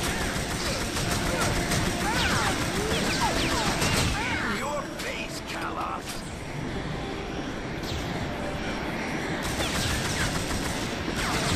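Bursts of machine gun and SMG fire in TimeSplitters Future Perfect, crackling volleys with whooshes and impacts, heaviest early and easing later, partly under someone talking.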